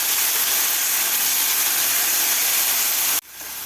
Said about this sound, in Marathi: व्यवस्थित आपल्याला याला पांढरे डाग पडेपर्यंत आपल्याला मटारला परतून घ्यायचं आहे.